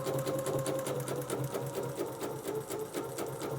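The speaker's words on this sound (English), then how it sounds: "I'm going to stitch all the way around." A sewing machine runs continuously close by with a steady, rhythmic whir and clatter as it stitches around a piece of fabric.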